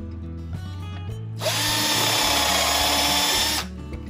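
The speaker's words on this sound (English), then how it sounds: "So I'll go ahead and drill some pilot holes here." A power drill bores pilot holes into a wood rack for wall mounting, a steady loud whine lasting about two seconds after a few quiet workshop knocks, then stopping abruptly.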